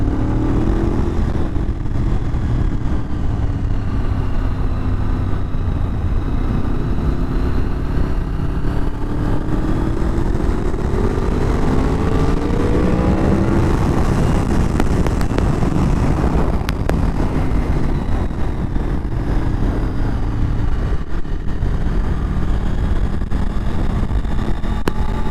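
A Honda VFR Sport GT motorcycle with 79,000 km on it rides through bends, its engine droning and rising and falling in pitch as it accelerates and eases off, loud and close, with wind buffeting the microphone throughout.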